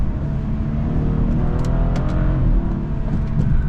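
A BMW F30 fitted with loud downpipes accelerates in a rolling pull from about 60, a steady, loud engine drone heard from inside the car.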